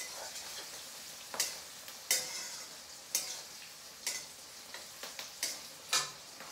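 Onions frying in a pan make a soft sizzle, punctuated by regular sharp spoon scrapes and taps about once a second, close and without talk.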